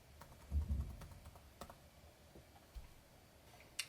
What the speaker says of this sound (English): you can zoom in and use the arrow keys on your keyboard to fine tune this.